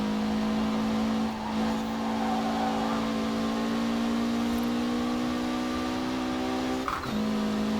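A Mitsubishi Evo VI engine racing in Forza Horizon 4 holds a loud, steady high-revving drone throughout, with a brief dip and a quick gear-change blip near the end.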